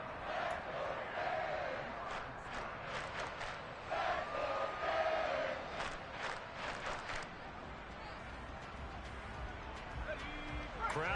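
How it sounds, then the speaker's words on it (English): Stadium crowd noise from the football video game Madden 23: a steady, moderately loud roar with rising cheers and scattered claps, under faint background sounds throughout. "Crowd getting in it a bit already."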